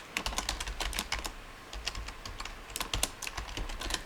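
Rapid, uneven clicking of keys on a computer keyboard as a password is typed, close and fairly quiet, with short pauses between bursts of keystrokes.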